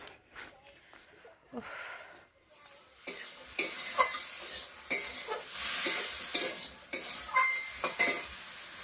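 Beans, half a potato and spinach cooking in a pan as a plain curry without spices, with stirring scrapes and a steady sizzle that builds after a quiet start, plus occasional clinks of a utensil against the pan.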